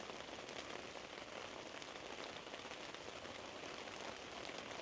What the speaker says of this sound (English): think this is actually the first time I have this tent in rain